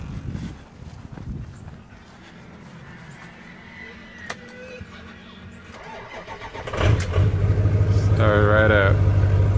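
A truck engine being jump-started with a lithium-polymer jump starter after a flat battery. Quiet at first, then the engine cranks and catches about two-thirds of the way in, settling into a loud, steady running rumble close by.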